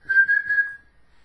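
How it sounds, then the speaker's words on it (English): A person whistles a single sustained clear tone with slight wavering pulses, close and loud, fading out after under a second. "Or maybe you can whistle. Can you whistle? I can whistle."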